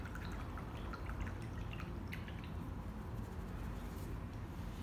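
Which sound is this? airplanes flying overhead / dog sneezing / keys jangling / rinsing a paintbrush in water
rinsing a paintbrush in water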